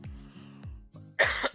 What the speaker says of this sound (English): cough, cough, cough, sorry about that.